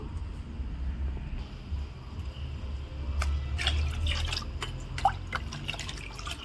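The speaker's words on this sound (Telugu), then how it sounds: "ఇప్పుడు దీన్ని వన్ ఇస్ టు ఫైవ్ రేషియోలో మనం నార్మల్ వాటర్లో డైల్యూట్ చేసుకుందాము" Plain water is poured in to dilute banana peel fertilizer, a low gurgling fill with a few bright splashes and drips midway, fairly quiet and close, with no speech.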